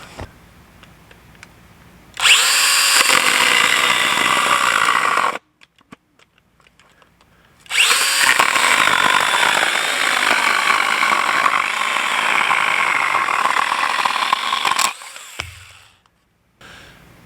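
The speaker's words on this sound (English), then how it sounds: "I got to use the cordless power pruner from Stihl, the GTA 26" A Stihl GTA 26 cordless power pruner cuts through a Douglas fir 2x4 in two loud bursts of buzzing chain noise, separated by a short quiet pause, ending with faint clicks.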